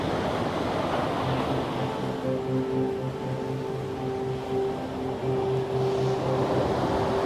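Sea waves washing steadily in open water, a soft continuous surf wash with no voices, joined midway by a faint low steady hum like a distant boat engine.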